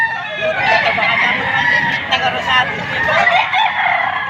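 A young rooster (stag) about nine months old crows at a poultry market in Padre Garcia, Batangas, its drawn-out calls sounding loud and close amid steady crowd noise and clucking birds.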